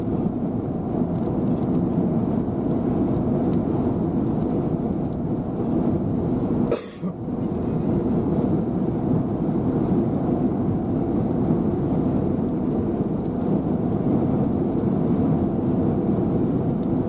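Gusty wind from a supercell thunderstorm over Texas towns roars steadily and loudly throughout, with one brief sharp buffeting burst near the middle; no talking.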